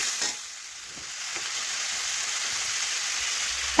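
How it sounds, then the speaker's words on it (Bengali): Spice paste of garlic, onion and turmeric sizzles and crackles steadily in a pan while being stirred, a close, even hiss throughout with a few soft scraping knocks. "এখন নাড়াচাড়া করে একটু মশলা কষিয়ে নিলাম"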